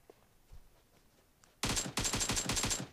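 Automatic gunfire in the mobile battle royale game PUBG Mobile: after a quiet lull, loud, close bursts of rapid shots erupt and keep rattling in quick volleys to the end.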